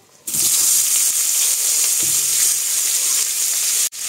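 Chopped onion hits a hot pan and sizzles loudly after a brief quiet start, a steady bright frying hiss with a few soft stirring knocks, cutting out for a moment near the end.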